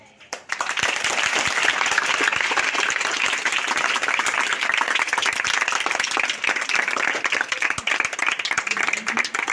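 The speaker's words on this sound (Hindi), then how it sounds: "प्लीज़ बहुत ज़ोर से ताली बजाइए" Loud, sustained clapping from an audience at a school menstrual hygiene awareness event, dense and continuous for several seconds after a brief quiet start.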